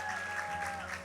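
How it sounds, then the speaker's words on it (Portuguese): Brief applause from a church congregation, a short burst of clapping at moderate distance with faint voices mixed in. "Uma salva de palmas para a galera da mídia aí"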